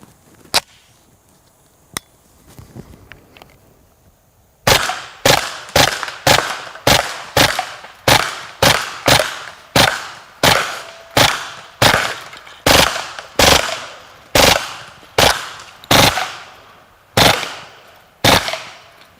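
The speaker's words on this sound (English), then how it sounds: "you can actually hear the difference in the rate of fire between the Plus P ammunition and some of the regular ball ammunition versus incendiary" A Kriss Vector fires a long string of sharp, loud shots in quick bursts outdoors, each crack trailing off into a short echo, after a few scattered single shots.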